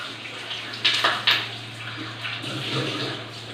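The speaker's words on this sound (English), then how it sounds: "rinse the giblets" Tap water running steadily while chicken giblets are rinsed in a kitchen, a continuous close splashing stream with a few sharper splashes near the start, no talk.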